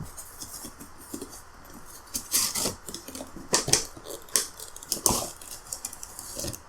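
Scissors snip and slice through the packaging of an anime figure box during an unboxing, giving a run of sharp, close crackling cuts and rustles with brief pauses between them.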